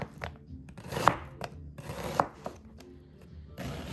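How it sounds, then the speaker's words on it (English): Sweet Vidalia onions being sliced with a knife on a cutting board, a series of close, distinct cuts and taps in an uneven rhythm with soft rubbing between strokes. "I'm just gonna slice them all."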